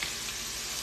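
Steak and cheese sizzle in a pan for a Philly cheesesteak, a dense, steady hiss of frying that fills the short moment without any talk.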